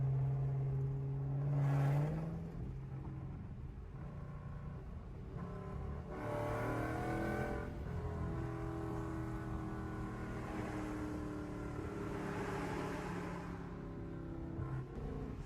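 A Chrysler 300 engine with a flame tune and tuned exhaust idles with a deep, throaty exhaust rumble, blipping and revving a few times in short bursts at close range, no voices.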